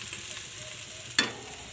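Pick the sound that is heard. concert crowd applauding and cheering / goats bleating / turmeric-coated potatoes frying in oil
turmeric-coated potatoes frying in oil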